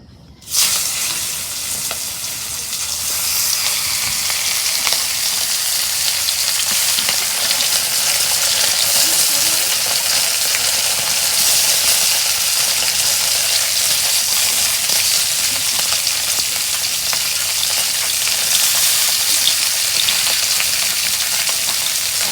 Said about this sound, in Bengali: এখন তেল গরম হচ্ছে, মাছ ভাজি নেব